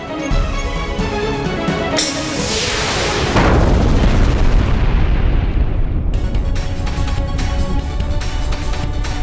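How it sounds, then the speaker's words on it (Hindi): A loud, booming blast from a Hindi fantasy TV series, with a rising whoosh and rumbling roar, layered over dense, dramatic music that continues afterward. "ये तो बहुत बड़ा धमाका था।"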